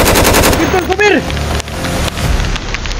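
Rapid machine-gun fire and gunshots from a shooting video game, loud and dense throughout, with overlapping shouted voices in the mix.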